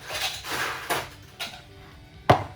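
Ice cubes for a margarita are dropped into a cocktail shaker in a series of separate clinks and clatters, with a sharper knock near the end, close and moderately loud with no talk.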